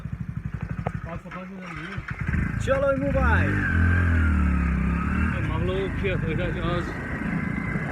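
Motorcycle ride to a neighbour's wedding in Kashmir; the bike's engine starts and hums steadily up close beneath ongoing conversation, with speech heard throughout.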